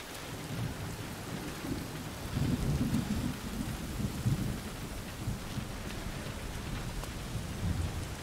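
A thunderstorm in the video game Road 96 brings steady rain on surfaces, with low rolls of thunder swelling and fading throughout. It is moderately quiet, with no talking.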